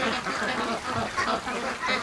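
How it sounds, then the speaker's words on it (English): A group of free-range ducks heading down to a lake quack and honk in a steady, close run of overlapping calls. "And we got more and more ducks."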